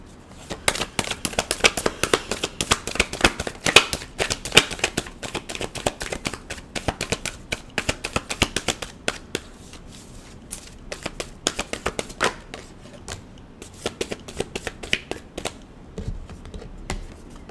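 Tarot cards are shuffled close by in a quiet room. A long, continuous run of rapid papery flicks and riffles comes in uneven bursts and slows toward the end. No one speaks.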